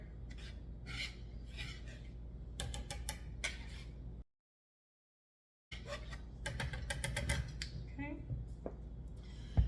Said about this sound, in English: So I'm just going to very gently mix these two together.